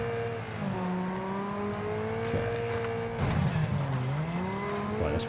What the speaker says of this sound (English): That's my first car I've spun out